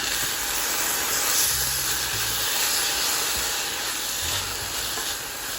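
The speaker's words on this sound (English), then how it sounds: "I'll add the quinoa and saute" Quinoa being sautéed with soft leeks in an oiled pan, a loud steady hiss of frying held throughout, with a few low scraping stirs beneath it.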